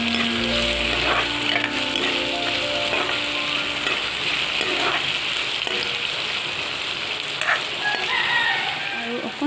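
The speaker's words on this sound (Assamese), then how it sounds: "পিয়াজখিনি ধুনীয়াকৈ ৰংচোৱাকৈ ভাজি লওঁ" Onions fry in a hot pan until browned, crackling and hissing in a steady close sizzle, with a few sharper pops and light stirring sounds scattered through it.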